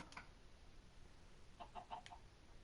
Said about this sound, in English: And it sounds like there's a fucking chicken somewhere.